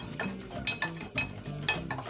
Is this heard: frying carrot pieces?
yes